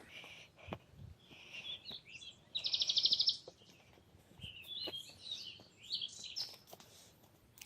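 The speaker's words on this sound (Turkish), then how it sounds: "kuş cıvıltılarıyla huzur dolu bir ortam" Birds chirp and twitter throughout in a quiet village setting, with one bright rapid trill standing out midway above scattered soft calls.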